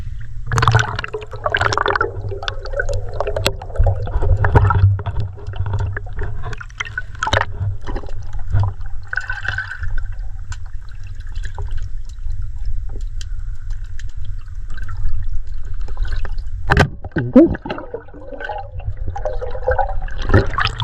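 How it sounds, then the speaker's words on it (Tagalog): Strong water rushes and gurgles steadily at high tide by the sea during a solo dive outing, a loud continuous churning roar with sharp splashes and bubbling surges throughout. "Grabe, lakas ng tubig mga idol, oh."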